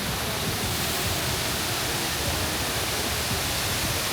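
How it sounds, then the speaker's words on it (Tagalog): A waterfall in Taiwan roars as a constant, broad rush of falling water that is loud and unbroken from start to finish. "Yan ang waterfalls."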